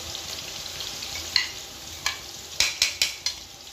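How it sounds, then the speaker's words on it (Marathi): Ginger garlic paste sizzles in hot oil for a Konkan taro dish, a steady soft frying hiss with a few sharp spoon clinks against the pan toward the end, close up and without talk. "आलं लसणाची पेस्ट परतून घ्यायची तेलात चांगली।"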